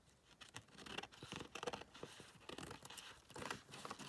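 Paper-like snipping and crinkling as scissors cut through a junk journal cover, close and quiet, with irregular rustles and small snips.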